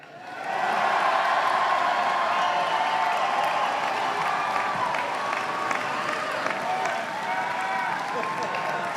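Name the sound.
audience clapping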